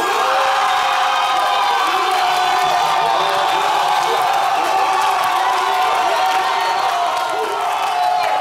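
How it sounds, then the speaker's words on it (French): A loud, close crowd at a televised battle show cheers, whoops and claps continuously, with excited shouting layered over steady applause throughout. "merci de faire du bruit et des applaudissements"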